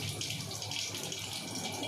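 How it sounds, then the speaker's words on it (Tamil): Water pours steadily into a pressure cooker holding half a kilo of rice, a continuous broad splashing rush that stays even and close for the whole stretch with no talking over it. "குக்கரில் வச்சாச்சு. அதை வச்சுட்டு தண்ணி ஊற்றிட்டேன்னு வச்சுங்களேன்"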